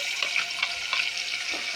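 A paste of ground onion, tomato and coriander sizzles in hot oil for crab masala, a close, steady crackling hiss with soft bubbling pops and no voices.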